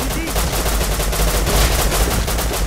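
Rapid automatic gunfire in the survival game Rust, a dense unbroken rattle of shots loud and close throughout, with bursts running together into a continuous barrage.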